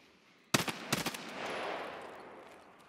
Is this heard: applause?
no